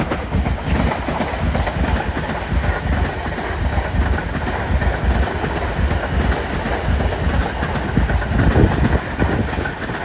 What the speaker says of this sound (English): you can make a musical tune with them going over the tracks